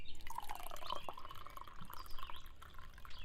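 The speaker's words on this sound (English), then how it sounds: "Let's pour a cup of coffee." Coffee poured into a cup outdoors on a summer morning in Vermont, a steady liquid trickle with drip-like splashes, close up against light background noise.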